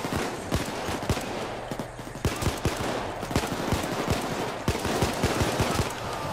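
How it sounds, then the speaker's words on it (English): Rapid pistol shots ring out in Payday 2 during a store robbery, arriving as sharp, irregular cracks in quick succession, some in tight bursts, loud and close over a dense background of game noise. "Take so many shots with a pistol to get these guys down."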